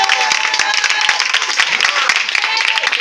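A church audience applauding during a sermon, dense continuous clapping filling the space at close range, with a voice speaking over it.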